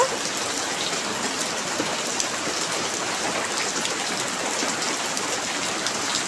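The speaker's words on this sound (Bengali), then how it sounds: "তো এখন ঠান্ডা পড়ছে, বৃষ্টি হচ্ছে, তো খুবই ভালো লাগছে।" A steady, heavy downpour of cool-weather rain hisses on without pause, its dense wash staying level and close from start to finish, with nobody speaking.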